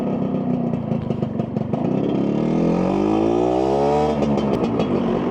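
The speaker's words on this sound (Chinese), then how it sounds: "唯一不好的就是这个减速带特别的高，你看前面车过去很费劲，我这过去也一样" An old Honda Nova RS 110 motorcycle rolls slowly over a tall speed bump on a city street, its mid-pitched engine revving up and sliding in pitch, steady and close with no talking.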